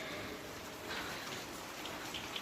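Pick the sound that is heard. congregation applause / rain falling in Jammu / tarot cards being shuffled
rain falling in Jammu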